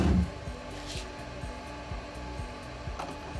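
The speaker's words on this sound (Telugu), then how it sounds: "చూడండి ప్రింటింగ్ పడుతుంది లేజర్ ప్రింటింగ్ మిషన్." A laser printing machine marks 9-watt LED bulbs on an LED light factory floor, giving a steady whirring drone broken by evenly spaced low ticking pulses, close and continuous.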